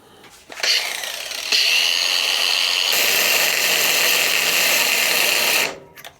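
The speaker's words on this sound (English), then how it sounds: "I'll cut these bolts" A power tool cuts through steel bolts for a bike stand build, a loud, steady high-pitched whine that holds for several seconds and then stops abruptly.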